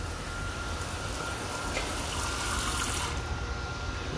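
Water runs from a tap at an anodizing station in a steady hiss, then cuts off near the end as the tap is closed.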